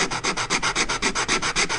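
A sanding block worked back and forth over a wooden project, giving a steady rhythmic rasp of about a dozen quick, even strokes, close and alone.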